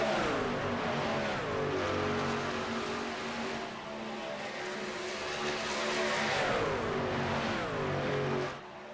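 Race cars lap Talladega in a Grand National Series racing game, their engines a loud, continuous droning roar whose pitch rises and falls as the pack sweeps past, easing off near the end, with no voices.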